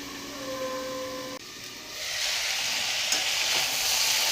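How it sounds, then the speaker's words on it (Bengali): A spring onion leaf mixture fries and is stirred in a covered pan over medium flame. A steady hiss swells into louder, continuous sizzling after a short tone and a clatter, with no talking. "আমি এটা ঢেকে ঢেকে একটু ভেজে নেব"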